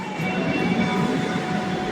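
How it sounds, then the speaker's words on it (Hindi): A metro train in Lucknow rumbles past close by with a steady, dense roar of wheels on rails and a faint high whine, no voices over it. "मेट्रो देखो, मेट्रो"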